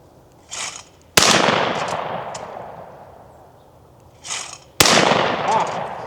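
Two loud, sharp shots from a Franchi 48AL semi-automatic shotgun, about three and a half seconds apart, each followed by a long decaying echo as the action cycles; a shorter, softer burst comes just before each shot.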